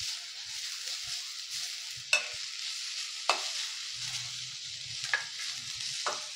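Ginger, garlic and green chilli sauté in a pan with a soft continuous sizzle, and a spoon knocks against the pan several times in sharp clicks. The sound is close and quiet, with no speech.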